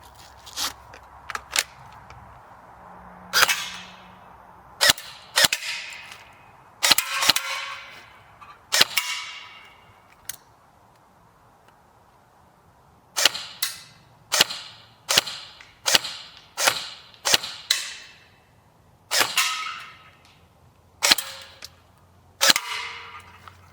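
A Lancer Tactical Gen 2 airsoft gun with an Alpha stock fires repeatedly, sharp close pops arriving singly and in quick bursts, with short pauses between strings of shots.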